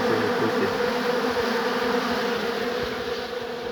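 A steady, dense buzz of many honey bees humming close by, continuous and even with no voices.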